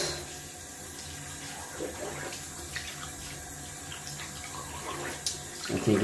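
Water runs from a tap in a steady, quiet stream of cold rinse water after wet shaving, with a few small splashes and a louder gush toward the end.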